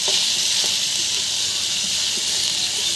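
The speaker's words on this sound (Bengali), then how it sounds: "তেলে ভাজা ভাজা করে নেব" Spice paste with salt frying in oil in a pan for a fish dish, giving a steady, loud, continuous hiss and sizzle with faint crackles, close by and with no talking.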